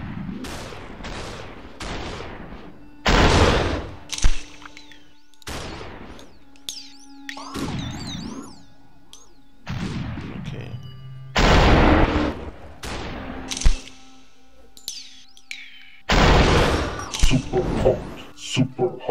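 Sharp gunshots in the Superhot game come in separated bursts, several heavy bangs spread through the stretch with pauses between them, while a player talks over them.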